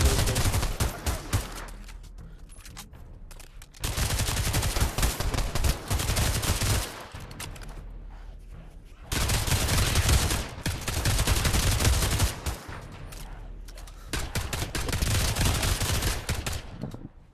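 Semi-automatic guns fired one-handed like pistols in a video game: several loud bursts of rapid, repeated shots, each a few seconds long, separated by short quieter gaps.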